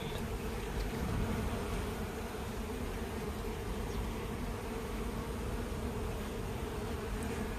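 Honey bees buzzing during a beehive inspection, a steady, dense hum of many bees close by that continues without a break.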